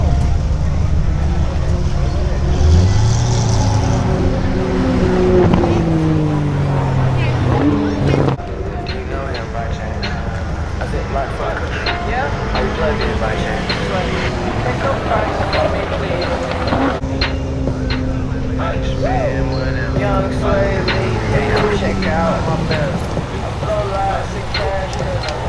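A motorcycle screams past at close to 196 mph on a high-speed run, its engine whine rising and falling in pitch. Wind roar continues throughout, and voices talk over it much of the time.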